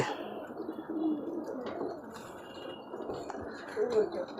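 Domestic pigeons coo in a flock, their low rounded calls rolling and overlapping at moderate distance, with some faint chatter and background noise mixed in.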